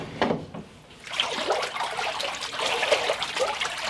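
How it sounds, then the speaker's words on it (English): Flax fibre is stirred by hand in a water vat, giving a continuous sloshing, trickling swirl of water that rises after a brief lull and keeps churning steadily up close. "So we have to get all the fibre into motion in the water."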